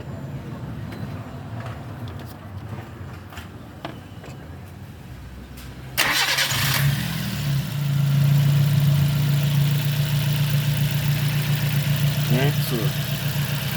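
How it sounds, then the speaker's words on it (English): A 2006 Nissan Y11 AD with a QG15 engine, suffering low power and misfire under load, sits quiet with brief talk before it cranks and catches partway through, then settles into a steady, close idle. "So we're going to start the vehicle and see if the pressure dropping."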